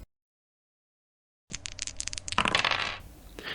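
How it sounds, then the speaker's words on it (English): Three injury dice from the ISS Vanguard board game clatter onto a table after a moment of silence, a short burst of rattling, tumbling clicks that gradually settles down. "involves rolling 3 injury dice"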